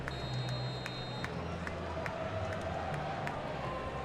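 A stadium crowd of over 100,000 mostly Ohio State Buckeye fans at a college football game against Miami RedHawks murmurs and cheers as a broad steady roar with scattered claps, while a voice talks over it.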